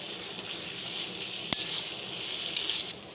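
Spice paste and chopped tomato fry in a pot for red lentil khichuri, producing a close, steady sizzle with a couple of sharp utensil clinks, and no one speaking.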